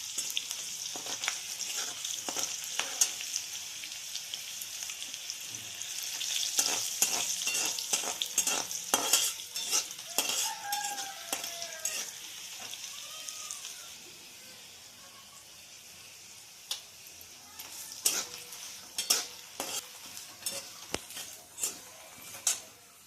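Makhana chivda ingredients with chillies and curry leaves fry in a pan, a steady sizzle and hiss with repeated stirring clicks and scrapes, loud and close, easing off briefly before renewed scraping toward the end.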